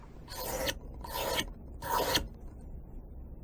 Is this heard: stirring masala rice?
no